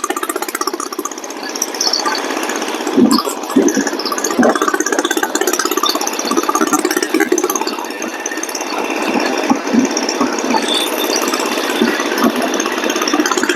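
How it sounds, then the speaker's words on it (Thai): A vehicle engine runs continuously close by with a rattling, knocking drone as it is pushed hard on an old rough road, steady and loud without any talk. "เร่งรถอย่างเต็มที่"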